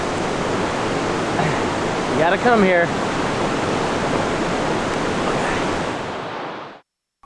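A clean, fresh river flows through the Costa Rican rainforest, a loud, constant rushing wash of water close by, with a brief voice calling out partway through.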